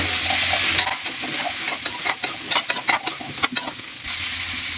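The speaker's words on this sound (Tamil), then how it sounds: "இப்போ இதை நல்லா வதக்கிக்கலாம்." Drumstick (moringa) pieces sautéing in a hot pan for murungakkai varuval, with a steady sizzle and a series of sharp scraping stirs from a utensil through the middle, close and loud, no talking.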